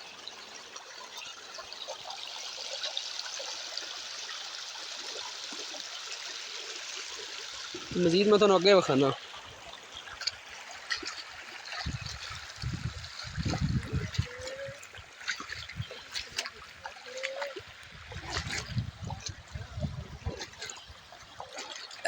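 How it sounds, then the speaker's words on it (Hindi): Floodwater streams steadily over a broken, damaged road in a flood-hit region, a constant rushing wash with brief louder splashes, while someone talks over it in Punjabi. "तो पानी जिहड़ा है वो सड़क ते भी आ चुका है"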